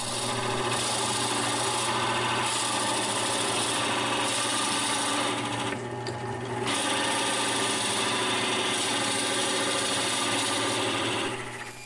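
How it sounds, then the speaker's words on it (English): A steady, continuous grinding rasp of a 1-inch Forstner bit boring into the top of a wooden bottle stopper, loud and close, running without pause for the whole stretch, with no voices. "I use a 1-inch Forstner bit to drill out the hole in the top of the wood"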